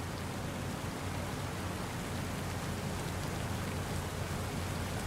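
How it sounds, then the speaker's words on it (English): Steady rain falls in Satisfactory, an even, constant hiss of drops with no breaks and no voices. "And it's raining."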